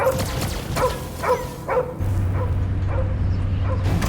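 A dog in the Guardians of the Galaxy video game gives several short barks and yips at a steady pace, then a low continuous hum takes over the game soundtrack.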